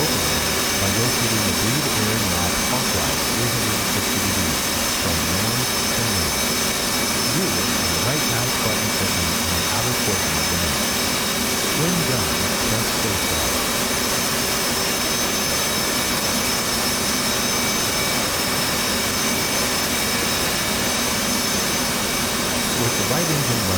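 F/A-18C Hornet jet engine running in a flight simulator, a constant whining turbine drone with steady high tones and an even hum throughout, a voice talking over it.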